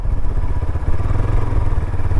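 A motorcycle rides along a backcountry road in the sertão of Bahia, its engine a loud, close, steady low rumble with clattering mechanical texture throughout and no talking.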